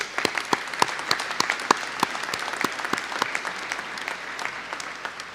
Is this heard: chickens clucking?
no